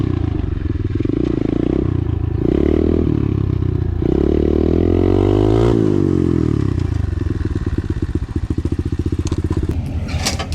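An 85cc two-stroke dirt bike rides past, its buzzing engine surging and dropping through several throttle blips, rising to a loud rev midway before settling into a rapid rattling putter, with some clatter near the end.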